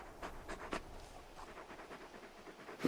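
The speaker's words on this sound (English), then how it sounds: "You're just a big puppy, aren't you? A very big puppy." Torgal, the large dog companion in Final Fantasy 16, pants softly in quick, rhythmic breaths. The sound is faint and close, with no talking over it.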